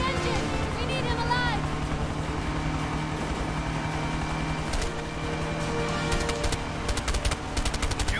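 Automatic gunfire in the video game A Way Out, with bursts of rapid shots under game sound and a droning engine, and a run of sharp cracks near the end while people talk over it.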